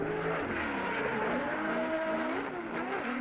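A 2JZ-powered Nissan S15 drift car on Achilles Radial tyres at a Perth drifting grand prix, its tyres squealing in wavering, pitch-bending howls over a constant, fairly distant engine roar.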